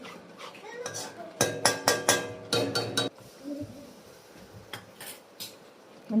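A utensil stirs milk into golden roasted gram flour in ghee, making a cluster of sharp metallic scrapes and clinks against the pan, then softer, sparser stirring sounds.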